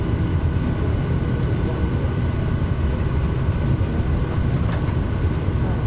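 A Kodiak 100 single-engine aircraft taking off in Microsoft Flight Simulator 2024, a loud, steady engine roar and rushing drone with no break.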